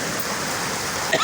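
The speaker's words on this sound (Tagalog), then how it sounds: "Grabe ulan na oh." Heavy rain pours down in a steady, dense wash of hiss that runs unbroken through the whole moment, loud and close, with a brief faint bump near the end.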